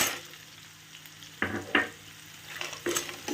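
Hog plum posto with sugar candy is stirred slowly over a low flame, with a soft background hiss and a few distinct scraping strokes of a spoon against the pan.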